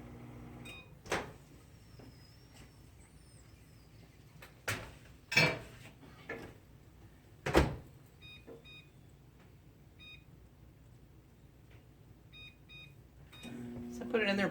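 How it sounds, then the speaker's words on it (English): A kitchen microwave oven beeps through a few short electronic button presses as it is set and started, after sharp clatters of dishes and a door closing nearby in a quiet room. "I'm just going to throw this in the microwave"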